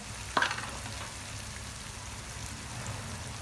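Masala paste fries in a pan with a steady, even sizzle, broken early by one sharp scrape of stirring; the sound stays moderate and close with no talking.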